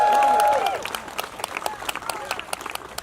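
Applause from a crowd at an outdoor rally for health, housing and humanity, greeting a speaker as he finishes; steady clapping sounds throughout, loud at first and then thinning, with a voice briefly overlapping near the start.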